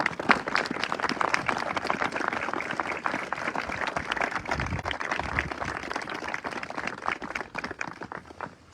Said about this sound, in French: c'est d'applaudir Alberto Israel ici à Auschwitz